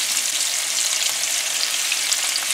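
Shallot and seasoning go into a generous amount of hot oil for fried okra with shrimp in Guyanese home cooking. A dense, even, fairly loud sizzle continues throughout with no talking.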